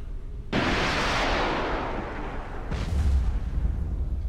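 A submarine missile launch in the naval combat game Cold Waters: a sudden loud rushing roar bursts out and slowly fades, then a second deep whooshing surge follows a couple of seconds later.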